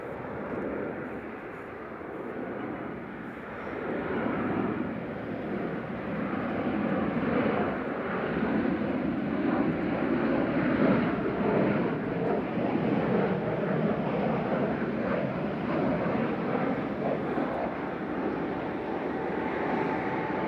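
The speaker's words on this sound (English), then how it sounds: "KLM 737-800 PHBXE coming in with flight 1039 from Amsterdam" A KLM Boeing 737-800 airliner on approach to land at Manchester Airport makes a steady broadband jet roar at moderate distance, swelling slightly and holding without a break for the whole stretch.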